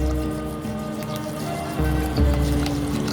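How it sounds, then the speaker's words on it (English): Water poured into a bowl of basmati rice for soaking, a continuous liquid gurgle and splash with shifting pitch as the level rises, close and fairly loud, with no talk over it. "So we are pouring water."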